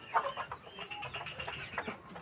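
Mardi free-range village chickens, three months old, cluck and chatter in a farm pen, with several brief overlapping calls scattered over steady barnyard background noise.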